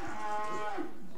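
A red brockle face heifer lets out a single close, clear moo at a cattle show and sale, a drawn-out low call with no talk over it.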